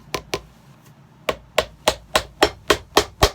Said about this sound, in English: I'm going to put 10 nails in.